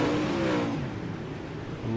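UMP race cars run four wide on a dirt track, their engines roaring together in a continuous loud drone with shifting revving pitches.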